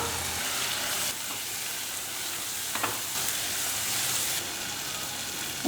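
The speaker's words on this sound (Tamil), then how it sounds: "எல்லாம் நல்லா வதங்கிட்டுருக்கு" Ingredients for a vegetable-free tamarind curry sauté in a hot pan, a steady broadband sizzle running throughout with a brief scrape near the middle and a slight dip in intensity toward the end; no one speaks.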